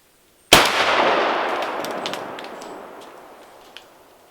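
A single loud blast from a 20 gauge shotgun firing a 3-inch Winchester Super X hyper steel shell at a steel target, followed by a long ringing decay with faint pellet pings trailing off.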